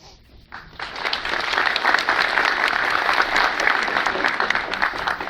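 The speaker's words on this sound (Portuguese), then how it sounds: "Uma salva de palmas para ela." Audience applause fills a hall at a seminar on education and socio-educational services, rising quickly after a brief pause and holding as a steady, dense clatter of many hands.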